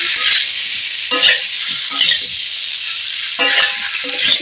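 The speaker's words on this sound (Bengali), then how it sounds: "এটাকে আবার এইভাবে আমি ভেজে নেব" Potatoes with salt and turmeric sizzle loudly in a pan, with a constant bright hiss and several scraping stirs at irregular intervals.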